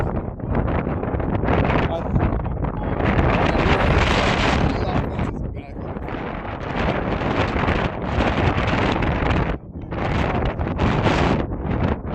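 Strong gusting wind buffets the microphone at an outdoor American football game between QMBL and UWE, a loud broadband roar that swells and dips continuously for the whole stretch with brief lulls.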